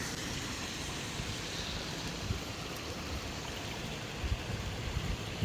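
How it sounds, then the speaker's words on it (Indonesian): A clear river flows through a town in Japan, giving a steady, soft rushing wash of water that continues unbroken with no voices. "Iya, sungai di Jepang."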